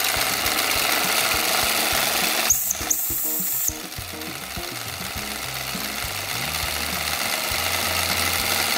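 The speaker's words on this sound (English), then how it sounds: "And that is an incredible invention, the steam engine." Small model steam engine running, its boiler heated by burning ethanol: a steady, close mechanical rattle and fast rhythmic chuffing that continues throughout, with a brief change in texture partway through.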